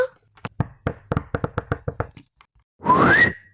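A rapid run of about a dozen sharp knocks on a door, close and loud, comes in uneven bursts, then ends in a short rising whistle-like sound.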